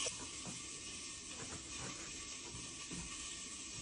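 Steady pressure-cooker hiss of escaping steam in a home kitchen with Ma's cauliflower and aubergine dish, a continuous broad airy rush holding level for several seconds, moderately close, with no voices.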